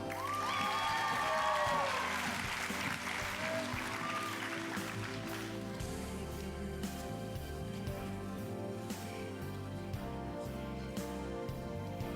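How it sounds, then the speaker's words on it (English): Graduation ceremony audience at an adult education commencement applauding and cheering for the graduates, a sustained wash of clapping with some voices that starts strong and then settles, steady throughout. "Thank you for cheering them on."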